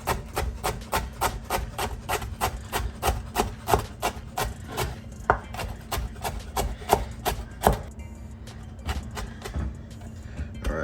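Knife slicing cabbage into fine strips on a cutting board: a steady rapid train of crisp chopping strokes, close and even, slowing to a few scattered cuts near the end.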